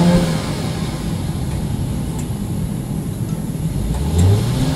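A Mercedes GLE SUV, capable of 0-100 km/h in about 5.5 seconds, accelerates hard with a loud, steady, close engine drone that rises slightly in pitch near the end.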